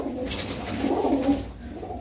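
Pigeons coo in a low, steady murmur throughout a short stretch at a loft where birds are being sold, close and moderately loud with no talking over it.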